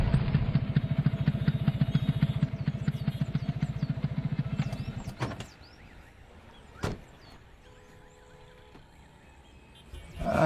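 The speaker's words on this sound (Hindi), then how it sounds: "हम बाइक पे आ रहे हैं, चलो।" A motorcycle engine runs close by with a steady puttering idle for several seconds, then cuts off, leaving quiet with a single sharp knock and faint background sounds.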